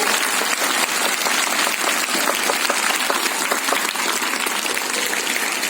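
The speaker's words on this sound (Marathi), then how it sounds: "मग टीचरसाठी एकदम जोरात कडकडून टाळ्या झाल्याच पाहिजे" Sustained applause from a school audience for a teacher at a Marathi Language Day celebration, a dense, steady wash of clapping that holds evenly at full strength from start to finish, with no voices over it.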